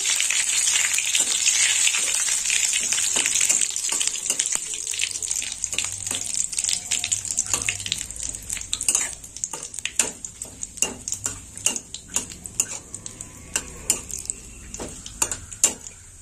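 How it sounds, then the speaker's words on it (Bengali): Dry red chillies and cumin seeds sizzle in hot oil as a spice tempering. Bright steady hissing fades over the first half, and scattered pops and crackles follow near the pan. "শুকনো লঙ্কা, জিরে, ফোড়নটা একটু ভেজে নেব।"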